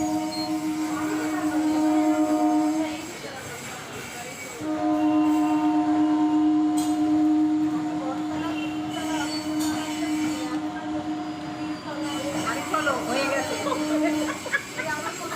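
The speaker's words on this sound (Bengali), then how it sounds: "ট্রেনটা চলে গেল" A train rolls past with a loud steady rumble and long high-pitched wheel squeals that fade and return, while people talk nearby.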